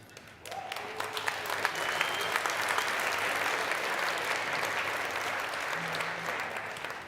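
Applause from the audience at the Finnish Game Awards 2023 swells in after a brief quiet start and holds as a dense, sustained roar of clapping from a large crowd, with a few faint tones underneath.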